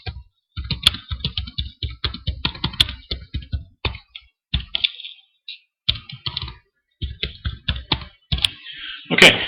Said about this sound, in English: right here we'll type in the body of our blog